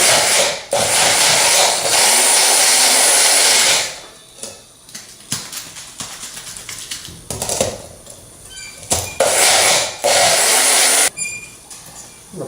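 A Baby Bullet blender pulses peas, apples and pears for baby food in loud bursts of motor whirring, broken up by quieter pauses with rattling and shaking sounds between them.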